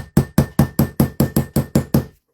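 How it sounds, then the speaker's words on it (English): A pointed hole-punch tool driven through craft material with a hammer, ten sharp evenly spaced strikes in quick succession, close and loud, then silence. "and hammer it down."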